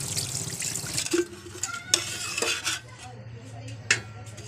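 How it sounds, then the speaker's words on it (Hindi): Dal lentils being washed in water in a metal pot, with sloshing water, scraping and sharp clinks of the pot and utensils, close and moderately loud. "इसको जी धो लेते हैं दाल को, ताकि ये ना साफ हो जाए।"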